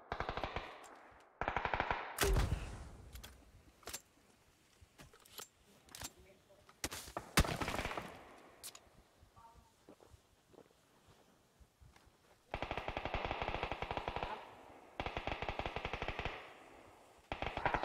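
Loud bursts of rapid automatic gunfire in the video game PUBG, with scattered single shots between them and a quieter stretch in the middle; several long close bursts come near the end.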